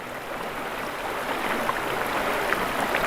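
The snowmelt-fed Velino River in the Apennine Mountains rushes over rocks with a steady broadband hiss, a continuous close flowing wash with faint splashes and no voices.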